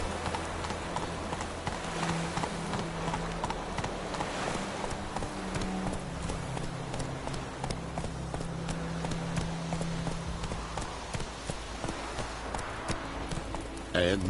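Horse hooves gallop in The Witcher 3, a steady, rapid clip-clop of the mount running under a continuous bed of ambient game sound, fairly quiet, with brief spoken lines from characters at the start.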